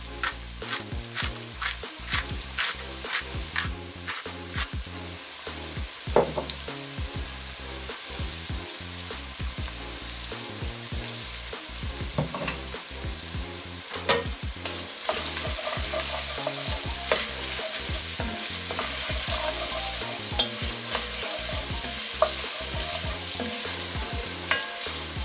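Oxtail pieces brown in a hot pan with a steady, dense sizzle, punctuated by frequent sharp clicks and scrapes of stirring, continuing unbroken for a long stretch with no voices.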